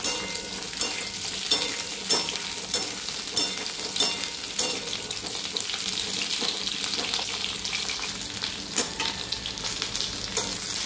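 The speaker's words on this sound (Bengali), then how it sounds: "বেগুন আলুগুলো আমি একটু তেলে ভেজে নেব।" Eggplant and potato pieces fry in oil with a steady, close crackling sizzle, punctuated by repeated stirring scrapes and clinks of a spatula against the pan, no voices.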